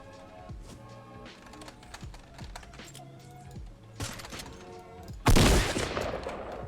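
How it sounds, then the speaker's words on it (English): Drum gun fire in Fortnite, sounding as a quick run of close shots. Keyboard clicks run throughout, and a loud blast comes near the end. "Okay. Drum gun. So this is drum guns."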